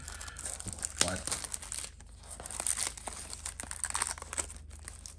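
Packaging of 1992 Skybox football cards being torn open, bursts of crinkling and ripping plastic wrapper close by, with a sharp tear near the start and softer rustling after.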